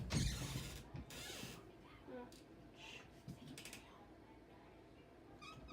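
A bedroom door swings open with a short creak and mechanical latch clicks, followed by a few faint thumps and rattles in a quiet room, close by and moderately loud at first.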